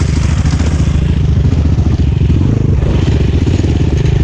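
A Kovi enduro motorcycle with a kickstarter rides off-road, its engine droning steadily and loud throughout with rattling clatter from the chassis, close and continuous.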